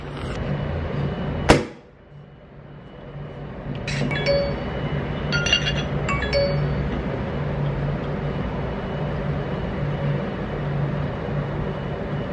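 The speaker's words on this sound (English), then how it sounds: "I'm just going to be opening a bottle of something nice." Bottle of sparkling drink opened outdoors at a busy waterfront, a sharp pop followed by a brief fizzy hiss, then faint glassy clinks over steady loud background hum of traffic and crowd.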